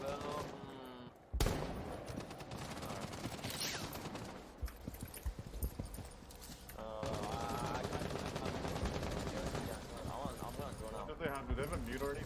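Rapid video game gunfire in a tactical shooter on the Border map, bursts of shots crackling over game audio while players talk throughout.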